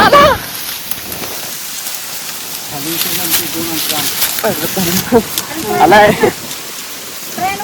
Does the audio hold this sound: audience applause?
no